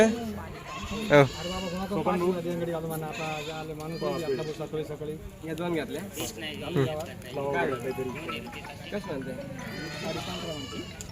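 Goats at a village livestock sale bleat repeatedly in wavering, nasal cries, mixed in with a group of people talking and bargaining nearby.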